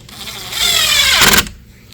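Power drill driving a screw through a metal bracket into a gate corner, one close loud whine rising in pitch for about a second, then stopping abruptly.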